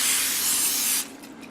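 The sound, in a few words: spraying oil onto baking tray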